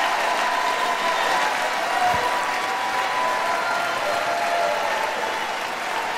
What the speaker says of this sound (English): people on both sides of the aisle are standing and applauding the president at this moment